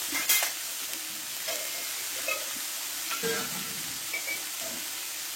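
Ground spice paste for a Katla fish curry fries in a pan with a low, steady sizzle, stirred now and then with soft scraping clicks, quiet and without talk.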